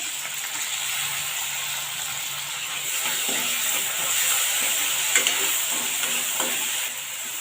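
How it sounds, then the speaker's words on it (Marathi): Chopped tomato cooking with softened onion in a pan makes a continuous close sizzle, with light, repeated stirring scrapes and no one speaking. "कांद्याबरोबर टॉमॅटो चांगला परतून घेतलेला आहे"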